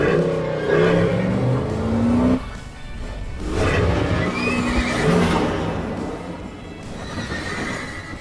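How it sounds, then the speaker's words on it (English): Horses neighing and whinnying with clip-clop hooves in a Jeep Wrangler commercial, several loud whinnies standing out over a revving engine and steady background sound, no talking. "Oh, look, are those horses?"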